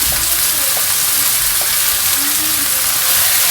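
Lobster meat sizzles loudly and steadily as it goes into a hot masala in the pan, a dense, close frying hiss that carries on unbroken with no one talking.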